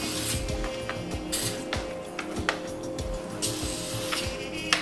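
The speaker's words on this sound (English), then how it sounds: "the last finishing touch on this before we get out onto the cooker is a little spray oil." Short hissing bursts from an aerosol can of cooking oil sprayed onto raw pork shish kabobs, several quick puffs close by, mixed with light handling noises.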